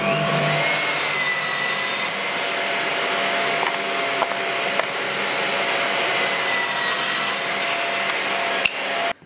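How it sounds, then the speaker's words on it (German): A power tool cuts wooden blocks to size for a router jig in a workshop, a loud steady whine running almost continuously for about nine seconds, briefly easing and then ending with a sharp click. "Und dann schneide ich mir Klötze zu."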